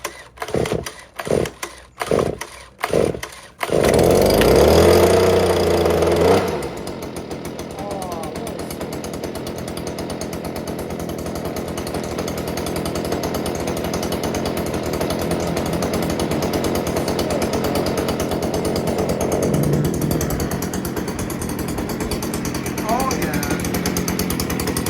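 A STIHL BG86C handheld leaf blower is cold started on a chilly 44-degree day: several rapid pull-cord tugs, then the two-stroke engine catches, roars loudly, and settles into a steady, close, sustained run.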